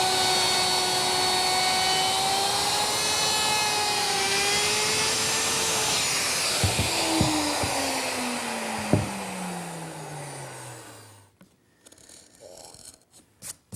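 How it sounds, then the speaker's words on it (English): A router fitted with a cove bit cuts a decorative edge on a wooden sign, giving a loud, steady high whine for about eleven seconds. The pitch then slides down as the motor winds off, leaving near silence. "want to make a bit of a decorative cut around the edge, and for that I'm using my cove bit"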